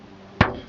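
A worn 12-inch Tama Custom Built snare drum head is struck once. The hit is a single close, dull, sharp thud that dies away quickly, with little ring or snare buzz.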